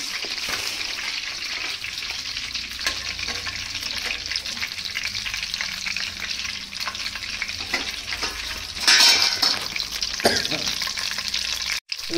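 Chopped garlic and ginger fry in hot oil for chili soyabean, a loud, steady sizzle with occasional stirring scrapes and a brief surge of crackling near the end, no talking.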